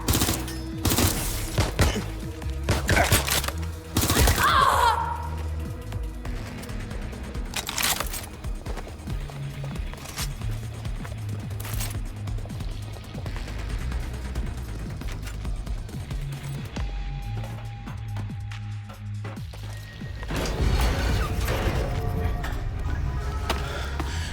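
Bursts of gunfire from the Watch Dogs Legion video game, loud repeated volleys clustered in the first seconds with scattered shots later over a busy background of game sound and music.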